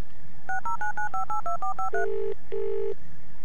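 A telephone number dialed in the video game Resonance: a quick run of about ten touch-tone beeps in steady rhythm, then two longer tones, loud and clear with nothing else over them.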